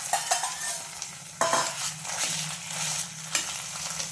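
Cooked pumpkin frying in ghee in a kadhai, a continuous gentle sizzle broken by several spatula scrapes and stirring knocks against the pan, near and without talk.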